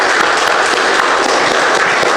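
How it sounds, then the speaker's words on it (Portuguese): A church congregation gives a sustained round of applause in praise of Jesus during a worship service, dense steady clapping filling the whole stretch at close range with no talking. "Para o Senhor Jesus uma linda salva de palmas"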